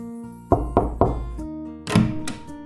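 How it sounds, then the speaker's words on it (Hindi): Cartoon door knocking: three quick, hollow knocks, then a pause and a second rougher pair of thuds, loud and close with no speech. "तो इसने इनके दरवाजे पर जाकर खटखटाया।"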